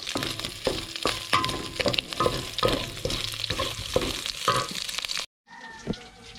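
Garlic sizzles and fries in oil in a pan while being stirred, with crackling bursts and scraping strokes throughout, then a brief dropout before quieter sizzling resumes.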